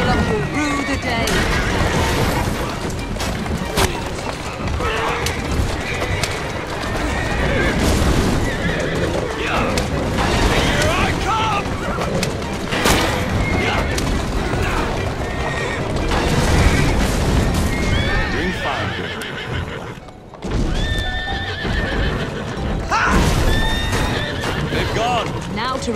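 Horse-drawn carriages race through the streets of Assassin's Creed Syndicate with loud clattering hooves and neighing horses. Crashes, booms and gunfire add to the din, and voices talk over the continuous noise.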